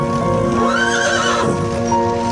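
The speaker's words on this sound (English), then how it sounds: "Imagine a team of horses and wagon rattling across these boards" A team of horses pulls a wagon across an old wooden plank bridge in Madison County, Iowa; one horse gives a loud, rising whinny over steady background noise, with faint hoof clatter.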